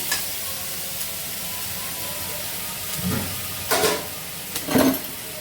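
Green chilies and spice paste sauté in oil in a pan, a soft low sizzle under room noise, broken by a few louder bursts of stirring and hiss near the end.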